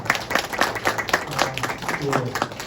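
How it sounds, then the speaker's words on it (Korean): An audience at a talk concert claps in a steady patter of applause that stays moderately loud, mixed with a person speaking over it. "네, 박수 한번 부탁드립니다"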